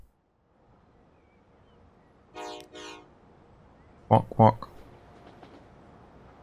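A Shinkansen bullet train in the Transport Fever 2 video game sounds two pairs of short, bright horn toots over a quiet rumbling background, with a voice speaking briefly.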